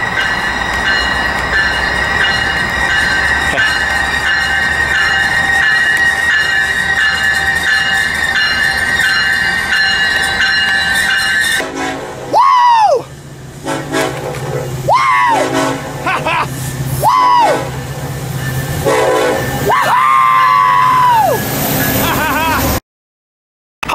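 An Amtrak or BNSF train rumbles steadily past at close range at Fullerton station, wheels squealing in repeated high-pitched bursts as it slows, with brief talk mixed in.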